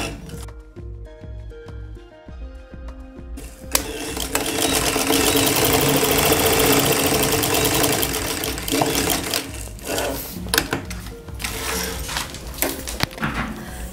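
A sewing machine stitches a strap onto a school pencil case, running steadily and loud for about ten seconds after a quieter stretch of handling, with brief stops and restarts toward the end.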